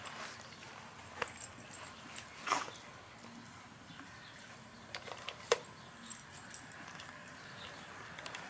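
A dog plays with a treat-dispensing toy indoors, giving scattered soft knocks, clicks and rattles at irregular intervals against a quiet background.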